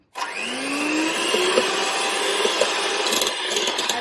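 An electric hand mixer whirs steadily as it beats jackfruit cake batter after sunflower oil is poured in, a loud continuous motor drone starting abruptly and holding with slight pitch shifts.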